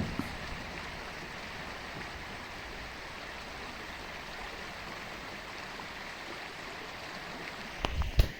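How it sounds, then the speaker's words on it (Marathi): A small stream flows steadily beside a path through farm fields, giving a continuous near rushing and gurgling wash of water with no pauses, ending with a brief louder clatter. "पुढे एक ओढा लागला त्याचा पाण्याचा आवाज तुम्हीच ऐका"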